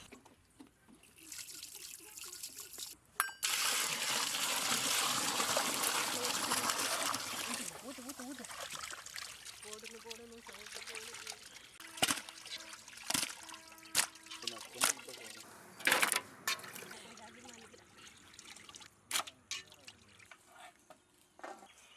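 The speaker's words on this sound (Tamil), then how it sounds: "கூடவே உப்பு சேர்த்து மீனை நல்லா அலசி எடுத்துக்கலாம்" Lizard fish being rinsed by hand in water with turmeric and salt, splashing and sloshing steadily in a vessel for several seconds, then giving way to scattered clinks and knocks with a voice speaking.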